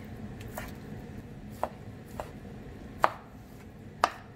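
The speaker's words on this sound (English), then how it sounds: "Cut the meat in pieces and add it to the soup." Four or five sharp knife chops on a cutting board, spaced irregularly, as meat is cut into pieces for borscht, over a soft background hum.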